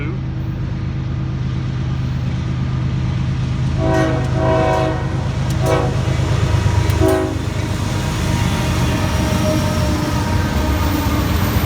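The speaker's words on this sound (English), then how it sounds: "looks like a grain train" A CSX grain freight train rumbles past steadily and close near the Marion, North Carolina tunnel, with a horn sounding several times midway over the continuous roar of the cars.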